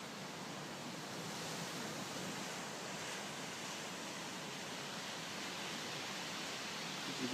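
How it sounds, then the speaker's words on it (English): Ocean waves roll steadily onto the shore of a beach campsite along the West Coast Trail at night, a continuous soft wash of surf heard alone with no talking. "Just going to sleep, listening to the waves come in."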